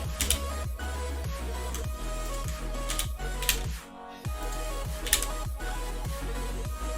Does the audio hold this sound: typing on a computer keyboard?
yes